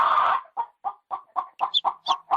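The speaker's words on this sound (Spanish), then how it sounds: "Vamos a seguir con el de la gallina." A hen clucks close by, beginning with one drawn-out call and then settling into a steady run of about eight short, evenly spaced clucks.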